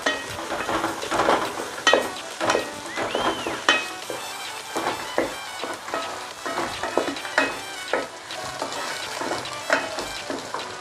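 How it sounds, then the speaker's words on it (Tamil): Chopped onions and green chilies sizzle loudly in hot oil in a pan for egg fried rice, stirred steadily with a utensil scraping and clinking against the pan, close up with no voices. "2 வெங்காயம், 2 பச்சை மிளகாய் கட் பண்ணி போட்டுக்கோங்க. இது நல்லா கிண்டி விட்டுக்கோங்க."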